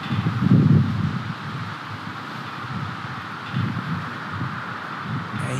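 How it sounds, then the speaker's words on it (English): Wind blowing outdoors on a disc golf course during an amateur championship round, steady gusty rushing and buffeting against the microphone, strongest at the start and swelling again midway, with no talking. "waiting for that wind to die down just for a moment"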